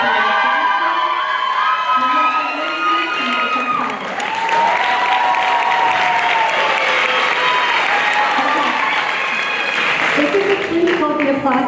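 Sustained applause and cheering from a crowd at a 2019 high school graduation ceremony, loud and continuous for the whole stretch, with scattered whoops and shouts rising over the clapping.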